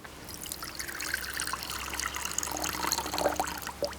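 Tender coconut water trickles and splashes steadily out of a freshly cut green coconut, a soft, continuous close-up pour that grows slightly louder toward the end, with no talk.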